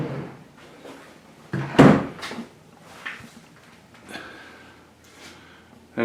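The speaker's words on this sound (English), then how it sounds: "I pull this off, and it mounts on the wall, and then I close the drawer" Drawer in a small workshop pushed shut, one loud sliding thump near the two-second mark, followed by quieter scattered knocks and rustles close by, with no talking.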